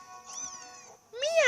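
Litten, the fire cat Pokémon, gives a short meowing cry in Pokémon Ultra Sun, with two rising-and-falling synthesized mews, the second louder and closer.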